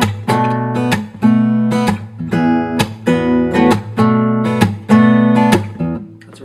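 Measures five and six of a song on acoustic guitar, the fingerpicked opening of the first verse, with bass notes rolling under ringing treble strings in a steady flowing pattern, played close and alone.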